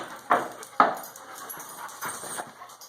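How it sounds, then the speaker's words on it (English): A dog pants close by inside an Earthship home, with a couple of sharp breathy puffs followed by softer, quicker panting breaths. "Hey, there's my dog."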